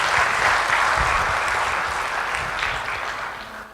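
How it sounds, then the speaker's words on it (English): An audience at an oral health guide release event in Kuwait applauds with sustained, dense clapping that stays loud throughout and fades slightly toward the end. "Let's give a round of applause for him one more time."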